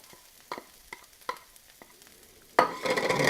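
A spoon stirs a frittata vegetable mixture with chopped spinach in a pan: a few soft scraping strokes, then a sudden louder burst of sizzling.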